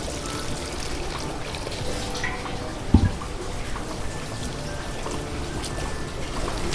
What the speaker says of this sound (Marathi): आणि हे फुलं मी धुवून घेते आता पाण्याने